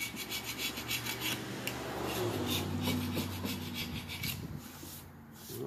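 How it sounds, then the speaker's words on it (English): Old gasket and silicone residue being scraped off a part from a Red Lion water pump, a close, continuous rasping scrape with steady rhythmic strokes, heard alone without talk. "it works real good for cleaning off old gaskets and scraping whatever you need to scrape"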